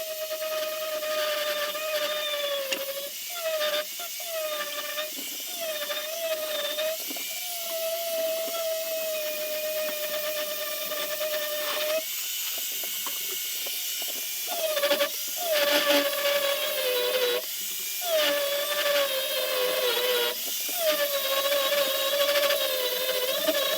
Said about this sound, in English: grinder makes fast work